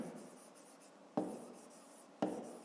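A pen writes numbers on paper while working a fifth-grade maths exercise, soft scratching strokes broken by two sharper taps where the pen lands anew; close and quiet, no voice.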